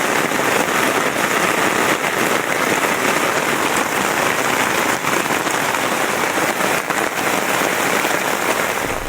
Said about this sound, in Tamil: இடியுடன் கூடிய கனமழை வெளுத்து வாங்கியது